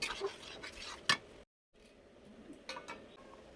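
Dal with fresh coriander leaves is stirred in a pot, with soft scraping and occasional clinks of the spoon, faint and close, broken by a brief silence.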